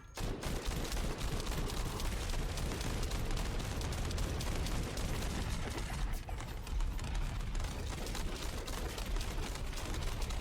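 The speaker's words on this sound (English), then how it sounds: "The bombs are absolutely putting in the work" Bomb explosions in The First Descendant rumble and crackle in a dense, continuous barrage of blasts and gunfire-like bursts, loud and unbroken for the whole stretch.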